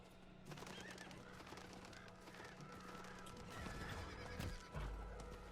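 A horse neighs over galloping hooves in the video game Diablo 4, loud and close, with brief bursts of combat noise behind the steady hoofbeats.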